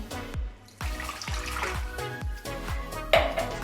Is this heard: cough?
no